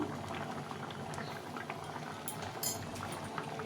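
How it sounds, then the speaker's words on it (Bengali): Chana dal boils in a pot with dried chilli, cinnamon, cardamom, cumin and bay leaf, a continuous close bubbling and gurgling of liquid with a few brighter pops and splashes. "ডালটা ফুটে গেছে"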